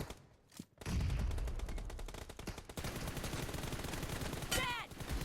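Rapid automatic gunfire in a mobile battle royale game, dense bursts of shots running almost without pause, loud and close, with a brief quieter start and a sharp whizzing effect near the end.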